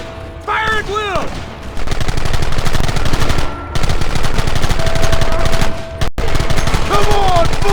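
Heavy overlapping gunfire in Red Dead Redemption Remastered, dense volleys of rifle and pistol shots through the clip, with brief shouted voices near the start and end.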